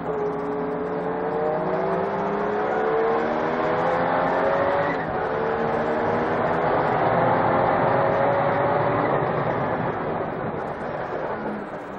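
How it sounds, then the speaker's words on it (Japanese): A Porsche 962C race car screams past at full speed during a circuit race, with engine notes climbing steadily over several gear pulls and other cars close behind. The roar stays loud and continuous throughout. "直線スピードで勝る 962C にスリップを使われインを取られる。"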